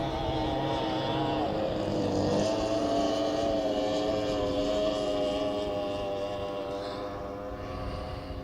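A racing boat engine drones steadily at a boat race, a loud, sustained harmonic roar that holds its pitch for several seconds before easing slightly, with no talking over it.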